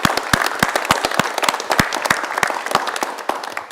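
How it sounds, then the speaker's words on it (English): An audience at an unconference wrap-up bursts into applause, a dense run of sharp individual claps that is loud at first and thins slightly toward the end, with no talking. "Please applaud David."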